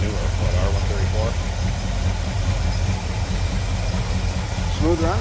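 A 1960 Buick LeSabre bubbletop with its 364 V8 and automatic transmission idles steadily with the air-conditioning compressor engaged, a low, even rumble close by, while someone talks over it.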